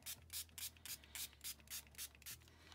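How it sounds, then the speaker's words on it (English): A spray bottle pumped repeatedly, about nine short hissing spritzes in a steady rhythm, close by over a low background hum. "I'm going to give it another wee spray."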